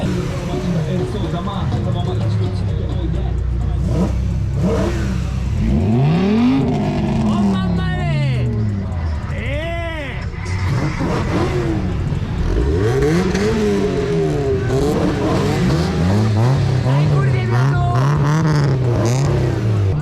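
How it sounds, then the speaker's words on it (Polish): Cars arriving and revving at a night car meet in Tuszyn, Poland. Loud engines rise and fall with repeated sweeping revs over a continuous roar from nearby, and voices mix in beneath. "kolejne furmany nadjeżdżają"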